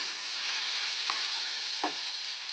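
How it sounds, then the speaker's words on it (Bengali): Chicken pieces frying with onion and spices in a pan, a soft, steady sizzle broken by two brief scraping knocks of stirring, quiet and without talk. "হালকা করে ভেজে নাড়াচাড়া করে দেবো"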